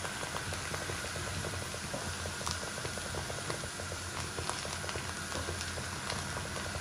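Beaten egg mixed with onion, green chili and salt hitting a hot pan, a steady, close sizzling hiss with light crackling pops throughout, and no one speaking.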